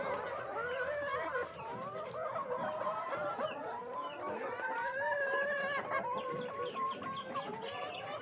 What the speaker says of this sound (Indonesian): di sini di peternakan ayam gembira.